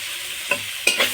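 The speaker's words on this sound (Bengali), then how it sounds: "পেঁয়াজ আর কাঁচা লঙ্কাটা একটু ভেজে নেব।" Chopped onion and a slit green chili fry in a small amount of oil in a pan, giving a soft steady sizzle with two brief stirring scrapes close by.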